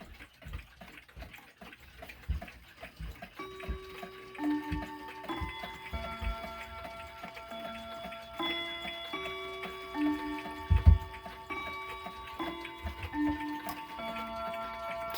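A Hamilton Wheatland bracket mantel clock with a Hermle movement ticks steadily and close by while sustained metallic chime tones ring and overlap over it.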